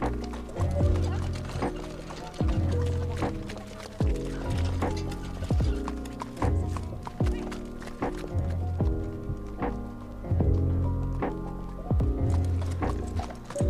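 Hooves of a black horse clip-clopping on a hard surface in a TV drama, steady close strikes repeating at a walking pace for many seconds, with occasional neighs and quiet voices underneath.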